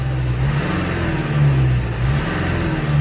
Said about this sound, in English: Revving a bit more freely.